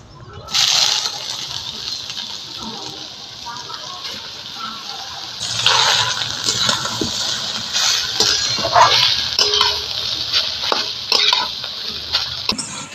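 Mango pieces drop into hot mustard-style oil already holding a tempering of dried red chillies, bay leaves and five-spice, then sizzle loudly while a spatula stirs and scrapes the pan in steady strokes, close up with no talk.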